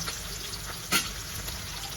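Onions fry in a pan with a steady, close sizzling hiss and one brief louder burst partway through.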